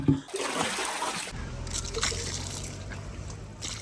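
Cold water trickles and splashes at a mountain spring (naula) as it is drawn, a continuous near, moderate liquid sound with faint voices in the background.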